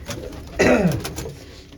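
Pigeons kept in a coop with young chicks give a deep rolling coo, one loud close call rising and falling, amid softer background cooing.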